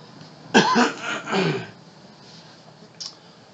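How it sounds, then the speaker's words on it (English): A person coughs a couple of times, close and fairly loud, followed by quiet room tone and a faint click. "Sorry for the coughing for anybody that's watching."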